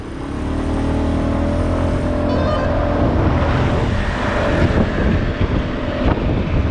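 An Aprilia Storm 125 scooter at full throttle, its engine droning steadily and loud throughout, heavily buffeted by wind noise on the microphone as it pulls along.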